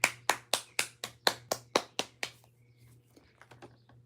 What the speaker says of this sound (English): Everybody, round of applause for Faylene.